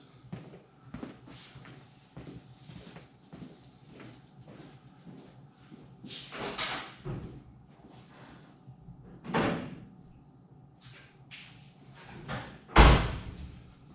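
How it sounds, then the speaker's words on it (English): Doors and bodywork on a 1967-1972 Ford Ranger XLT bumpside pickup during a bed trim install: scattered knocks and thumps, several louder bangs near the end and one sharp slam, with faint handling noise between. "I think we gotta open the door because it's gonna be too long."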